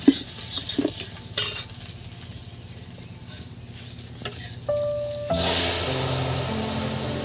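Green chillies and a little ginger frying in a pan for a cabbage dish, with stirring clanks and scrapes of metal utensils, then a louder burst of sizzling as more is poured in near the end.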